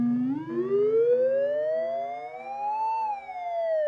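A Behringer Neutron analog synth tone glides steadily upward in pitch as it is tuned, then dips slightly at the end, a sustained buzzy drone heard alone with no talking.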